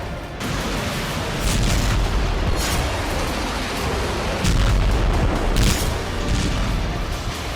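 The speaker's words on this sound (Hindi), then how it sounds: "जबरदस्त धमाके, बड़ी आग है" Heavy artillery fire and explosions in the Russia-Ukraine war, dense rumbling booms and blasts overlapping in a continuous loud roar with sharper thuds standing out.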